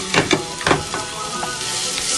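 Paella ingredients with parsley and confit peppers sizzle in a hot pan, a close, steady fry with a few sharp spatters and stirring scrapes early on.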